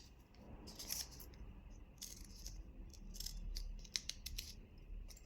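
Scissors snip through a folded paper instruction leaflet in a quiet craft setting, a series of short, crisp cuts at an irregular pace, close and fairly soft.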